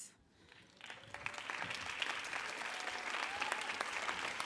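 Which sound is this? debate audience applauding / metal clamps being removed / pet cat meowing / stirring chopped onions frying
debate audience applauding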